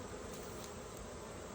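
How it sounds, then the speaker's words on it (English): Honeybees buzz around the front of a hive in a soft, continuous drone, fairly faint and without voices. "Still plenty of bees out front"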